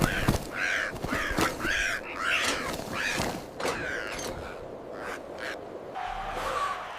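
Loud, harsh crow caws repeat in a rapid series of raspy calls, close and dominant, in an animated fairy tale soundtrack.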